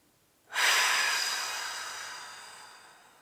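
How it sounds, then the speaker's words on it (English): One deep meditative breath starts suddenly as a close, airy rush, then fades slowly over a few seconds as it is let go, heard alone in a quiet room. "Just taking another deep breath in. A deep breath out, letting go."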